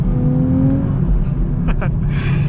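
A 2023 Nissan Z engine blips upward as auto rev match kicks in during a downshift, a steady low drone rising briefly, with a brief voice over the interior hum.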